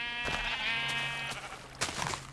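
Minecraft sheep bleat in the game, a couple of nasal, quavering bleats close by with a faint ambient background and no talk.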